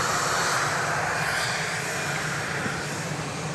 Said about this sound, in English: the plane you just saw going through your picture was Flight 3033, 737-700 going to LAX